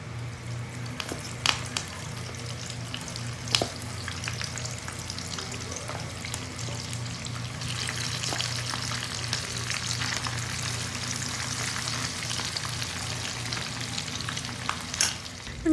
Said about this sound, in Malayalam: ഇനിയിപ്പോൾ നമുക്ക് ബാക്കിയുള്ളതും കൂടെ ഇതേപോലെ ഒന്ന് ഫ്രൈ ചെയ്തെടുക്കാം.